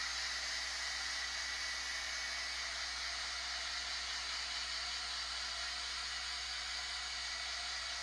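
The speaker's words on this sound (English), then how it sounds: "I have my heat tool. I'm just going to kind of dry each step as I go, just in case." A heat tool blowing hot air over a handmade paper card, a steady loud whooshing hiss that runs unbroken and alone for the whole stretch.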